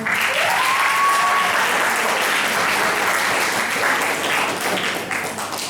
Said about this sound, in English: May the delegates of UNEP clap hands for themselves.